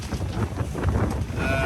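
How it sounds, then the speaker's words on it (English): Sailboat with both engines at full revs punching into a 30-knot headwind at sea: a loud, steady engine drone buried under roaring wind buffeting the microphone, with no talking. "We've got both engines at full revs, just trying to punch into this 30 knots."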